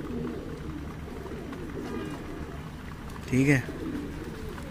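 Teddy pigeons, a golden nasal high-flyer breed, give a short, clear coo over a low background hum, while someone talks nearby.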